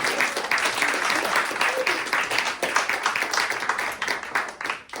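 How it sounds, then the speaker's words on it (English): A magic show audience in a parlor setting claps for a volunteer, dense steady applause filling the room for several seconds before thinning out at the end. "Let's give Steve a round of applause, ladies and gentlemen"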